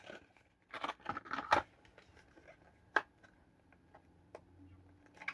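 A package of taso cards is torn and crinkled open at close range. Several bursts of sharp ripping and rustling plastic are followed by a lone crackle and then quieter handling.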